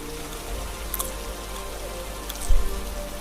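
Heavy rain pours in a steady, dense hiss with scattered drip-like taps, close and continuous throughout with no voices.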